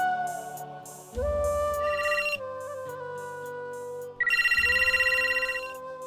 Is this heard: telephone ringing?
yes